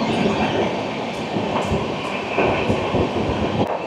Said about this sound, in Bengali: হাওড়া থেকে যশবন্তপুর স্পেশাল ট্রেন।